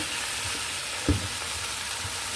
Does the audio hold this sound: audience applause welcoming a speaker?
no